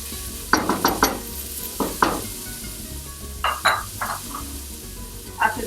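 Vegetables softening in a pan for vegan tortilla soup are stirred with a utensil, giving a low sizzle under a series of scraping, clinking strokes against the pan, close by, arriving in short irregular bursts.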